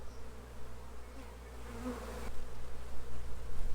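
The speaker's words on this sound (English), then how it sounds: "this frame is totally covered with bees" Honeybees swarm over a brood frame pulled during a spring backyard hive inspection, a constant close drone that thickens and grows louder toward the end, with no talking.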